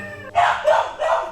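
A dog at an animal shelter intake gives three short, close barks or yips in quick succession, fairly loud with faint room noise beneath.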